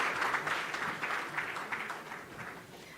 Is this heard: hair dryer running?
no